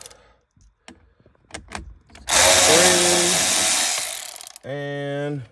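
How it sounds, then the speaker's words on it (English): A small battery-powered ratchet backing out bolts on an OBS GM truck interior, heard as a loud sustained whir of about two seconds followed by a shorter whine, with scattered clicks and handling noises beforehand. "So I've got a little battery ratchet here."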